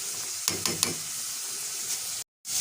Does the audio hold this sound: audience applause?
no